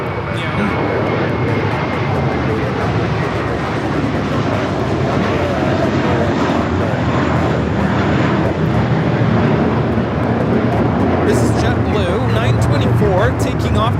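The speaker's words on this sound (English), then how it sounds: "We have the Japan Airlines Dreamliner rolling on 24 left." Jet airliners at LAX, with a Japan Airlines Dreamliner rolling for takeoff on runway 24 left, a continuous loud engine rumble and roar filling the whole stretch, heard from a distance beneath ongoing talk.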